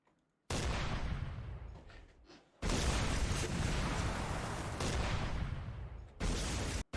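Sustained heavy gunfire and explosions in the video game Combat Mission, with loud continuous bursts of shooting that pause briefly and then resume, near and dense.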